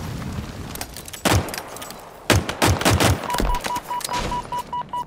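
Machine gun fire in Halo Infinite, heard as several loud bursts of rapid automatic shots with gaps between them, ending with a steady repeating electronic beep.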